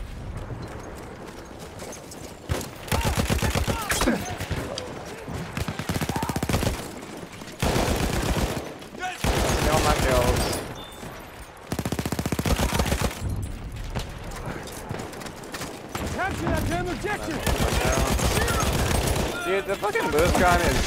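Gunfire in the video game Battlefield 1 comes in repeated bursts of rapid automatic fire, loud and close, alternating with brief quieter gaps, while a player talks intermittently.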